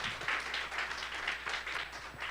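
A church congregation claps in a steady rhythm during a Sunday morning service, moderately loud and fairly close, with no voices over it.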